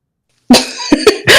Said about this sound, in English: all Rico is aware of is his own coughing